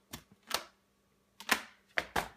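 Keys clatter on a Surface Pro 3 Type Cover keyboard in a few separate, crisp clicks and taps spaced irregularly across a couple of seconds, close and fairly quiet, with no speech.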